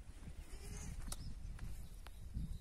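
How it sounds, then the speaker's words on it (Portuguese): Young goats on a farm bleat in short, faint calls over a low background rumble, with no voices. "E vocês acordam com esse som aqui dos animais, dos cabritinhos berrando."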